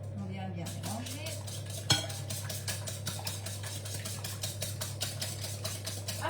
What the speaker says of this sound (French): Donc on va venir fouetter la préparation